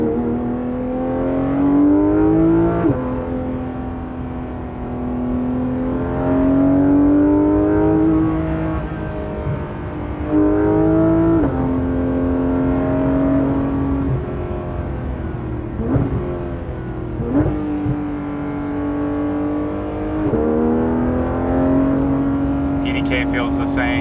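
A Porsche 991.2 GT3 RS with a PDK gearbox accelerates hard on a road, its loud, close engine note climbing repeatedly and dropping at each quick upshift, heard from inside the car.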